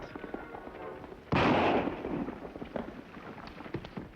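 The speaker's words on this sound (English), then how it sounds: "Rifle shot come from road, maybe." A single sharp rifle shot cracks out loud and close in an Old West scene, its burst trailing off into a rumbling echo, with faint background activity before and after.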